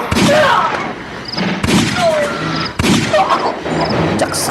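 Gunfire in an Ilocano drama scene: three sharp, loud shots spaced about a second apart, each cutting through a busy background of voices and noise.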